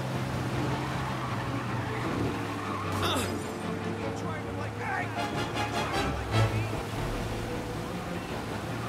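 Car driving in Mafia Definitive Edition, a steady engine drone with tire squeals and skids rising over it now and then, speech present throughout.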